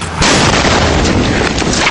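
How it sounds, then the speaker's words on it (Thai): Gunfire and explosions as a loud, dense barrage, a near-continuous roar of overlapping shots and booms filling the whole two seconds after a sudden onset, with no voices. "ในขณะนั้นก่อการร้ายซุ่มโจมตีเสียงปืนดังสนั่นตอนเวลาเลยเที่ยง คืนกว่า"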